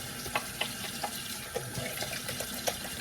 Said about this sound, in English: I'm going to leave it in the sink for just a second while I wash my hands.